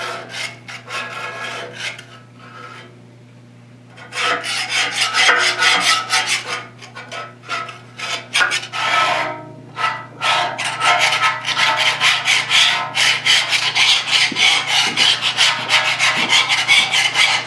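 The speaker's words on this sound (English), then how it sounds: "once the oven cleaner really starts to deteriorate the paint, you could just start scraping it away" Close, raspy scraping of oven-cleaner-softened thick paint off a South Bend pedestal grinder, rapid repeated strokes that pause briefly early on, then continue steadily and grow louder, with no voices.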